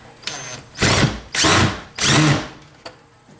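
Power drill driving a screw into a wall stud, three sharp whirring bursts close up, each under a second long with brief pauses between, followed by a small click.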